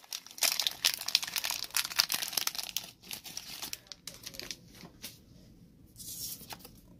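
A Pokémon card booster pack is torn open with loud, close crinkling of the foil wrapper in irregular bursts, easing briefly before another rustle near the end.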